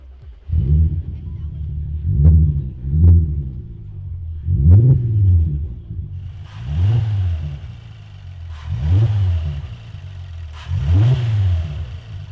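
A VW MK7 GTI with a swapped 3.6 VR6 engine cranks and fires, then revs in repeated rising and falling bursts, a deep rumbling exhaust close by with a few brief idle gaps between revs.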